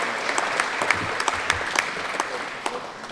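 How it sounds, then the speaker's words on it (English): Steady applause from the audience at a U.S. Squash Hall of Fame induction ceremony, dense clapping with scattered sharper claps holding an even level for a few seconds. "So, round of applause to US Squash for this achievement"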